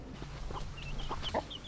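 Chickens clucking on a small farm on the outskirts of Lusaka, Zambia, with a few short, soft calls scattered over steady low background rumble.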